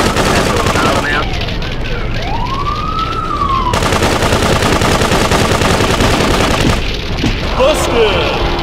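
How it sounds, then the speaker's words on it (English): Machine gun fire and sirens from the PC video game GTA 2, a dense, loud, steady rattle of shots running the whole time with a wailing police siren sweeping through the middle and voice lines over it. "Machine gun!"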